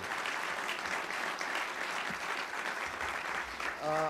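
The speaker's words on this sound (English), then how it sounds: "So we want to give them a round of applause" Community audience gives a round of applause, a dense, even wash of clapping heard at a distance, with a brief voice right at the end.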